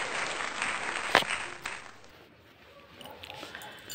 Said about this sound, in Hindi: एक बार जोरदार तालियां श्रीमती देवी रावत जी के लिए